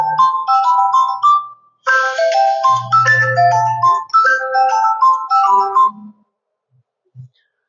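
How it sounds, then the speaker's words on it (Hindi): A phone ringtone plays a bright melodic run of electronic chime notes, pausing briefly before continuing loudly and then stopping, with no talk over it. "फोन आना चालू हो गया, इसलिए हम उसको बंद करते हैं"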